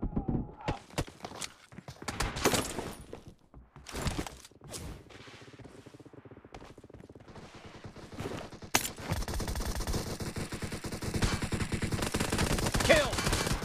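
Pistol gunfire in a video game team deathmatch, bursts of sharp rapid shots, some near and loud, others scattered and fainter, with footstep-like thuds and a dense stretch of continuous firing toward the end.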